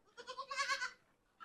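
A Sirohi goat kid bleats close by: one long wavering call, then a second call starting at the end. No one talks.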